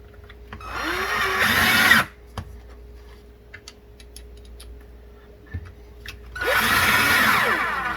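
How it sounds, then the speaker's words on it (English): A power drill drives self-drilling screws into wood in two whirring bursts of about a second and a half each, near and loud, separated by quiet ticking and faint handling clicks. "I'm going to drill the bottom one first."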